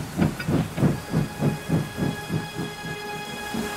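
A cartoon steam engine from a Thomas & Friends redub pulls away, its rhythmic chuffs repeating steadily about every third of a second, with a sustained whistle-like tone over hissing steam, no talk.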